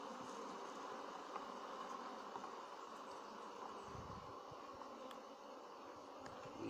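A dense, faint drone of honeybees buzzing steadily around an open hive, an even hum that continues without pause.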